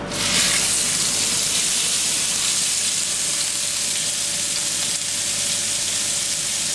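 Ground meat sears in a hot pan for spaghetti bolognese, giving a loud, steady sizzle with hissing steam that holds at one level from start to finish, with no voices.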